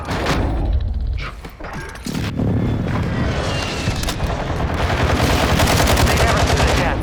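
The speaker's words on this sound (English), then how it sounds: "airstrike." Airstrike explosions and heavy gunfire in Warzone Resurgence, a rapid barrage of booms and thuds with dense automatic fire, loud and continuous apart from a short lull.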